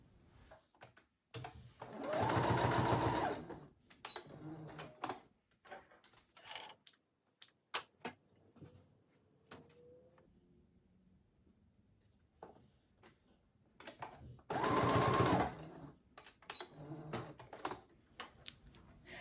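Sewing machine stitching straps onto a fabric face mask, two short rapid bursts of whirring stitches separated by quiet handling clicks and taps, close and fairly faint.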